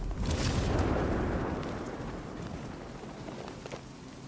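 A deep, rumbling explosion from Batman: Arkham Knight booms loudly, then its roar slowly fades into a lingering low rumble with faint crackles.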